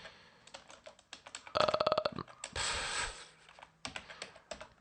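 Fingers typing a command on a computer keyboard, close clicks in quick bursts with a dense rapid flurry and a brief louder clatter, alone without speech.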